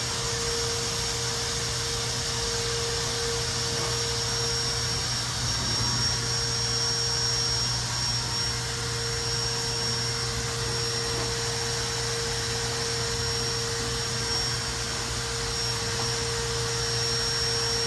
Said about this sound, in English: this has now become a blower. I'm just going to blow all that stuff out of here.